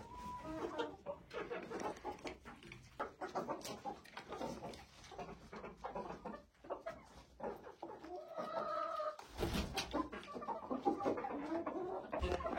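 Hens in a village coop cluck and murmur continuously at close range, with soft overlapping calls and occasional louder squawks, no speech heard.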